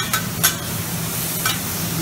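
Steak, onions and other food stir-fry on a Mongolian barbecue grill with a steady close sizzle, and metal utensils scrape and clink against the hot surface a few times.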